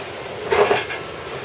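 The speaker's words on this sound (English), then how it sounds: "So let me get a pot." Rummaging in a home kitchen cupboard for a cooking pot: a short cluster of clattering knocks and metallic rattles from cookware being shifted, close and fairly loud, fading quickly into quiet room tone.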